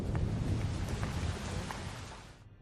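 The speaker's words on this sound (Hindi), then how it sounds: "आ जाओ, बारिश आने वाली है, अंदर चलते हैं।" Heavy rain pours steadily with a deep low rumble of thunder beneath it, loud and close throughout, then cuts off abruptly at the end; no voices.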